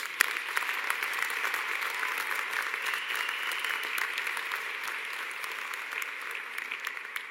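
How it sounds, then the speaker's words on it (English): A graduation audience gives a steady, sustained round of applause for students, dense crowd clapping at even volume throughout with no talk over it. "Let's give them all another round of applause."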